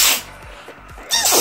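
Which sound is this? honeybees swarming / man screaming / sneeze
sneeze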